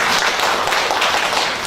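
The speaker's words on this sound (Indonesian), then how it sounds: "tepuk tangan buat semuanya" A group of women applauds together in a workshop or class, a dense, continuous burst of close clapping that holds steady throughout.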